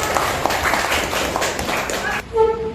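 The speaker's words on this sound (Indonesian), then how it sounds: "Beri tepuk tangan." Students in a classroom clapping in a brief lively burst of scattered hand claps, then a voice takes over near the end.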